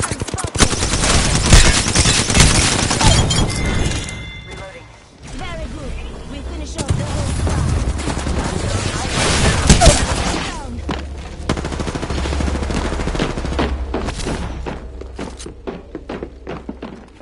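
Apex Legends gunfire crackles in dense automatic bursts and single shots throughout, loud and close, with mechanical clatter and a brief lull midway before the firing picks back up.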